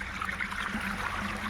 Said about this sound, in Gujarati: આપણે ખોલી દીધું પાણી